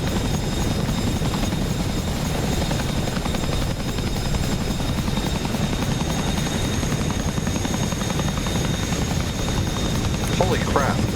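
A Chinook helicopter roars close and steady, its heavy rotor thump and engine drone filling the air continuously without a break, loud throughout.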